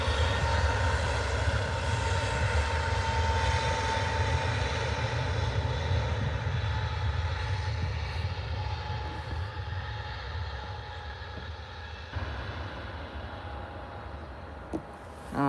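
An Airbus A320neo airliner at Liverpool Airport produces a steady, distant engine roar with a faint whine, gradually fading while light rain falls.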